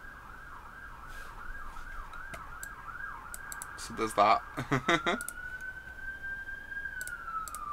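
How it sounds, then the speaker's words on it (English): Sirens wail outside an open window, a wavering emergency-vehicle siren cycling up and down before settling into a long steady tone, fairly distant, with someone speaking briefly over it. "Apologise for the sirens. I might close my window."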